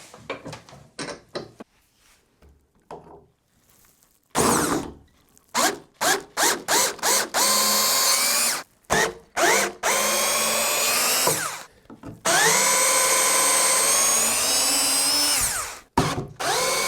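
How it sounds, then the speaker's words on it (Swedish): Power drill backing out screws along the side of a wooden fender board in a workshop, in repeated loud whirring bursts of a few seconds each, with short pauses between and one long continuous run near the end. "Nu ska vi ta det de här skruvarna som sitter längs hela sidan och dela på de här 2 brädorna."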